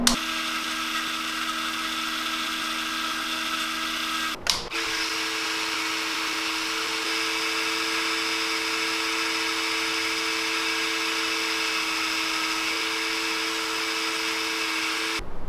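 A Dremel rotary tool carves a small novelty object, its steady high-pitched whine running close and continuous, with a brief drop in pitch and load partway through before it resumes.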